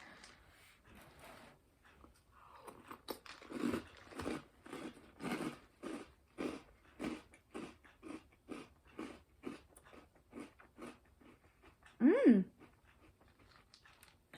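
Cocoa Puffs cereal in milk being eaten, with a steady series of close, moist crunching chews in regular rhythm, moderately quiet, followed by a brief louder burst near the end.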